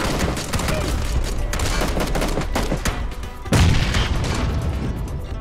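Frag grenade explosions in the PUBG video game, dense booming blasts and gunfire rolling continuously, with a sharp louder burst partway through.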